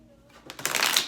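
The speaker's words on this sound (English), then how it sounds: "So just listen while I shuffle." A deck of cards is riffle-shuffled close up: a brief, crisp flutter that swells quickly after a quiet moment.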